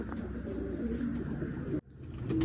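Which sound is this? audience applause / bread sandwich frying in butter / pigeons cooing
pigeons cooing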